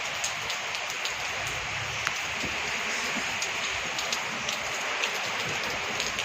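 Heavy morning rain pours down steadily outdoors, a dense continuous hiss of drops striking surfaces close by, with occasional sharper splats and no talking.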